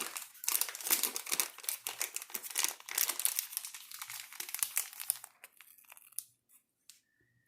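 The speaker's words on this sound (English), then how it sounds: "I'm filling up a pastry bag" Close, busy crinkling and crumpling of a small plastic disposable pastry bag fitted with a tip as it is filled for trifle decorations, continuous rustles for about five seconds, then a few sparse crinkles fading to quiet.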